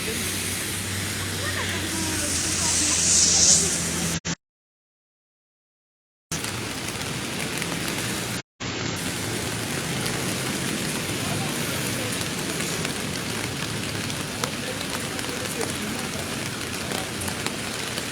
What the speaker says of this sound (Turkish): Ama şiddetini bayağı azalttı yağmur. Yağmur da biraz azaldı.